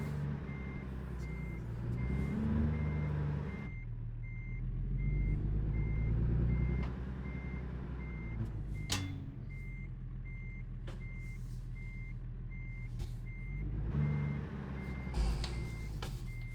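Repeated electronic reversing beeps from a truck in American Truck Simulator ring out steadily over a low rumbling diesel engine, with an air brake hiss partway through.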